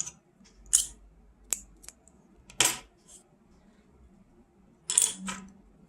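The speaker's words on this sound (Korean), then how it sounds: "자, 그리고 나서 실을 좀 빼서 잘라주세요." Scissors snip crochet yarn during a round flower-motif tea mat project: a few separate sharp, close clicks spread across a quiet room, with faint handling noise between the cuts and no talking.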